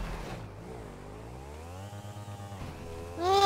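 A motorcycle engine in the GTA video game revs with a rising, wavering whine, holding steady and then climbing sharply louder at the end, with no voices over it.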